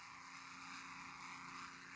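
A propeller airplane engine in the flight video game Wings of Steel gives a steady, unbroken drone that stays level and even throughout, with no voices.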